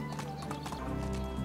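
Horse hooves clip-clop steadily in the medieval life-sim game Medieval Dynasty, a brisk repeated rhythm of in-game footfalls with a brief whinny, steady and fairly close over a constant game background.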